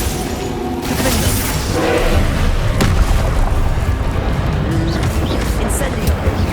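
The Confringo fire blast spell cast in the Hogwarts Legacy video game, a loud booming, roaring burst that rises after the first second and stays heavy and dense, with a voice shouting over it.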